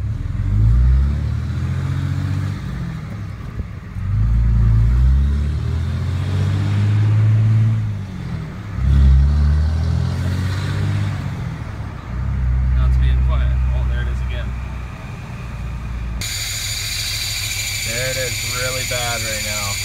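A G56 manual transmission squeals with the clutch released, a steady whine over the engine running near the mic, with people talking over parts of it.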